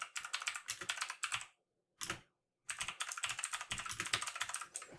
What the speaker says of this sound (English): My keyboard's pretty loud